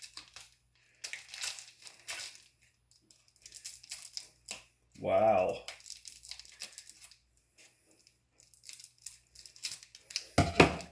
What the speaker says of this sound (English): this sounds like a job for